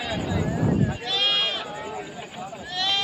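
Goats bleat with wavering cries at a goat and sheep market in Ramapuram, Rayachoti, close by, over a bit of rustling and background voices.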